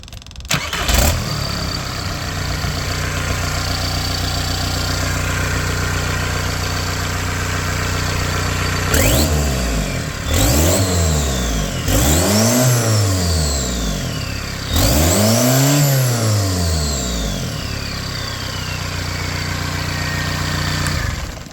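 A used VW 1.9 TDI diesel engine cranks and starts, then idles with a steady clatter before three rising-and-falling revs in a row, loud and close with no talk.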